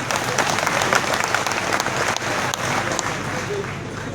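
A crowd claps at a political public meeting in Maharashtra, with dense, loud, continuous applause that runs steadily throughout.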